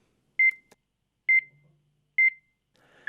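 Avalanche transceiver close to a buried victim gives its characteristic electronic beep, three identical short double-pulsed tones at a steady interval, clean and isolated in a quiet setting.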